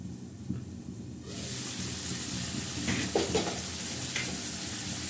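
Mutton fries in a pan as a bhuna with spices. It starts quiet, then a steady sizzling hiss rises and holds, with a few faint stirring scrapes.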